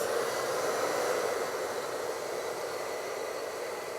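A hair dryer blows steadily with a constant airy whoosh, close and even throughout, with no voices.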